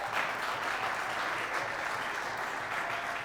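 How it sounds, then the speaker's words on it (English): Steady applause from a crowd at a school basketball tournament game, continuous clapping at an even level throughout. "Let's get those applause going again for the Christian Life Eagles."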